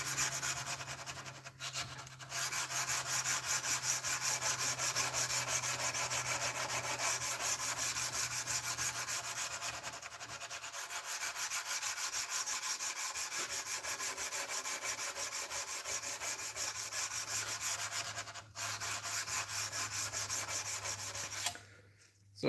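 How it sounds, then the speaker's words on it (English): Steady rhythmic rubbing of 120-grit abrasive on a knife blade, a dry back-and-forth hand-sanding scratch that continues for a long stretch with brief pauses. "I've hit a boring point in this knife build, which is just hand sanding"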